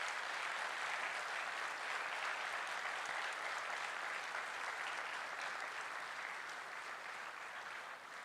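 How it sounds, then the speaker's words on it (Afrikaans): A church congregation applauds the team behind its Christmas production, with broad, even clapping filling the room for several seconds before it eases slightly at the end. "kom ons gee vir hierdie span julle regtig 'n lekker groot hande klap"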